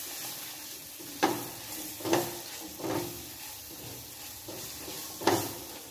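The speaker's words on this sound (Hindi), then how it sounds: "तो इसको अच्छी तरीके से मिक्स कर लेंगे।" Maggi masala is stirred into spices cooking in a pan: a soft low sizzle broken by four or five distinct scraping stirs, fairly quiet and close.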